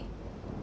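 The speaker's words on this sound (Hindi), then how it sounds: "कैलाश गरज रहा है महादेव।" Thunder rolls above Mount Kailash in a mythological drama scene, a dense, continuous low rumble with a rain-like wash over it, loud and unbroken through the brief moment.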